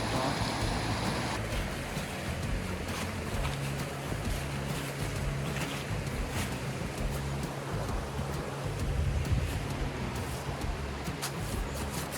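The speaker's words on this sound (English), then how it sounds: "I think it's a violent stream." Fast, violent stream rushing steadily during a snowy outdoor outing, a loud continuous broadband roar of turbulent water filling the whole stretch with no speech over it.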